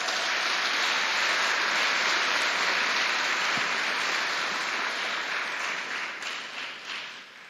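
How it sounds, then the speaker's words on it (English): Sustained applause from a large audience at a literary awards ceremony fills the space with a dense, steady clatter that gradually thins and fades toward the end. "Round of applause for our big winners coming up later."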